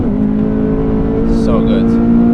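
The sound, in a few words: Honda Civic FD2 Type R engine downshifting on the Nürburgring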